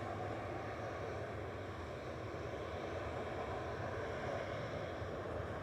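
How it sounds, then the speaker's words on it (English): A Boeing 737-800 departing Manchester Airport gives a steady, broad jet roar that holds level throughout, with no voices over it. "The lesser spotted 737."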